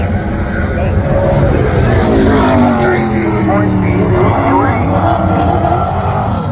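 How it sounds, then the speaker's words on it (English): A race car laps the Delaware Speedway oval, diving low through turns 3 and 4 and then drifting up out of the groove before getting straight back on the throttle. The engine drone is steady and loud, with commentary talking over it throughout. "Drives it down into 3 and 4, up out of the groove, but right back to the throttle"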